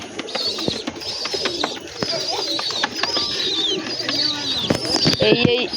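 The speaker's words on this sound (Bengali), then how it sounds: "পায়রা" Pigeons coo and chirp around a loft with young chicks, a steady close chorus of calls with a person's voice briefly underneath.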